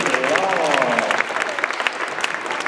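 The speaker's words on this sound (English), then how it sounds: "Round of applause, ladies and gentlemen." Applause from a school assembly audience, a dense steady wash of clapping with a voice speaking over it early on, fading slightly toward the end.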